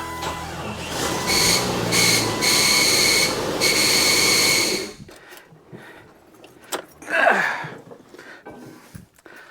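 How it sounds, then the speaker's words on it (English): A 1998 Jeep Wrangler engine runs loud with a high, steady squeal from a worn clutch for about five seconds, then cuts off, leaving faint clicks, metallic jangles and a brief rising whine. "I don't know if you could hear that, but the clutch is still squealing"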